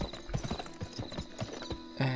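Horse hooves clip-clop at a gallop in the Western video game GUN, a steady rapid rhythm of close, loud thuds with a brief whinny-like tonal sound near the end, no talking.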